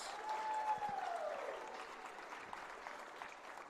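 Audience applause for a senior at a Brevard versus Pfeiffer college volleyball senior night, a broad steady wash of clapping that holds moderately loud, then eases slightly and continues without talk.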